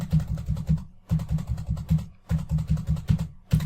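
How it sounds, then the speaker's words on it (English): Rapid clattering keystrokes on a computer keyboard in quick bursts separated by brief pauses, close and clear with no talking. "That noise you're hearing is Paul typing 30 H's"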